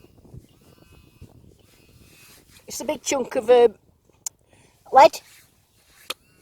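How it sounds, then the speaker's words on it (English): A few wavering sheep bleats, one long and quavering then a shorter one, over quiet outdoor background while metal detecting, with brief clicks between. "I'm worried about frightening the sheep"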